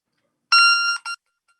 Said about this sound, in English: And this ball beeps continuously throughout the game.